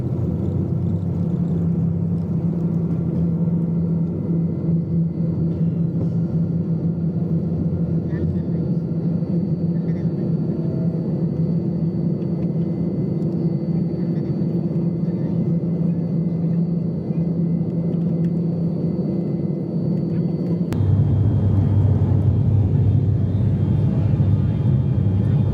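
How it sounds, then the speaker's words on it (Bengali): Airstra passenger airplane on a Sylhet to Dhaka flight, a steady loud cabin roar of engines throughout, growing heavier and deeper near the end as thrust builds. "অবশেষে আমাদের বিমানটি ফ্লাই করে।"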